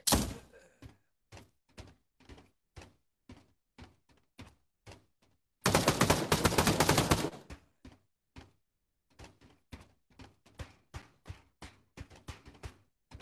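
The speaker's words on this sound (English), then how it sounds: "Is there shooting going on here?" Gunfire in the VR shooter Pavlov: a long dense burst of rapid shots about two seconds long, framed before and after by many sharp, evenly spaced single reports and clicks, fairly near.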